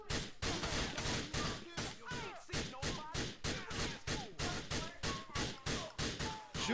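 Repeated gunshots in GTA IV, a rhythmic series of sharp loud bangs roughly every quarter second, with shouting voices mixed in between.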